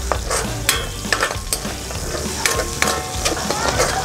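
Onions sautéing in a pan for lechon paksiw, a steady, close sizzle with stirring and a few sharp scrapes and clinks of a utensil against the pan, no voices.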